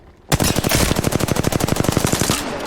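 Rapid automatic gunfire from the Apex Legends video game erupts after a brief quiet start: a loud, close, steady burst of about two dozen evenly spaced shots that lasts a couple of seconds before cutting off.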